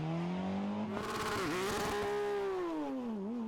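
Rally car starting a stage of the Rally Ciutat de Gandia on a mountain road, its engine revving hard and rising and falling in pitch as it accelerates away, close and loud throughout with no talk.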